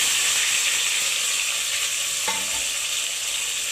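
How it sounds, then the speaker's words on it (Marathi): Bay leaf, green chillies and peas fry in hot oil for a Maharashtrian pea rice dish, giving a steady, close hiss and crackle of sizzling with a faint scrape of stirring partway through. "हे तळायचं तेला चांगलं."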